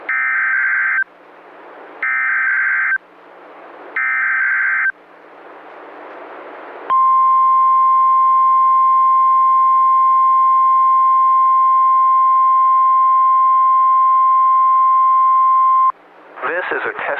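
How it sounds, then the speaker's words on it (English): A NOAA weather radio warning alarm test: three short two-tone beeps with gaps, then a long steady loud alarm tone lasting about nine seconds, cut off abruptly by a burst of broadcast sound. "This is a test of the NOAA weather radio warning alarm device."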